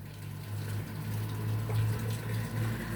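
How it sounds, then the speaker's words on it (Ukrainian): Boiling water from a kettle pours steadily into a jar of cucumbers for pickling, a continuous close gushing splash with a low steady hum beneath it and no speech. "Бачите, залили кипятком."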